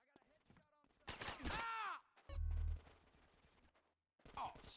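Gunshots ring out in Grand Theft Auto, a few sharp bursts of rapid fire with ringing tails between quiet gaps, mixed with in-game grunts and voices.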